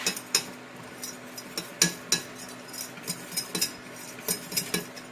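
A flour roux for vegan scalloped potatoes is stirred in a pot, giving a string of sharp utensil clinks and scrapes against the metal at an uneven rhythm, close and clear with no talking.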